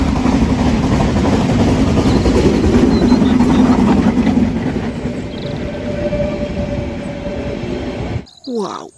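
A toy express train gives a steady, loud, close mechanical rumble for about eight seconds, then cuts off abruptly, leaving a few brief clicks and handling noises.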